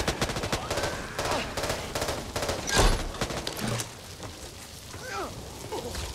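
Rapid automatic gunfire from the zombie shooter Back 4 Blood on PS5, a loud, dense burst of overlapping shots with a heavy crack midway, then sparser rounds and softer clatter.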